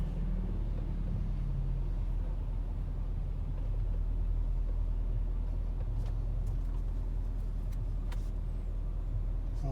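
A car drives on the highway with a steady, loud low rumble of engine and road noise throughout, with a few faint clicks and no talking.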